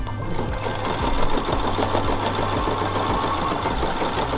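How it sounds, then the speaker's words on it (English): An embroidery machine stitching numbers onto a jacket shoulder runs loud and close, a steady rapid mechanical chatter with a low motor hum throughout. "We're working on embroidering some numbers in the jacket"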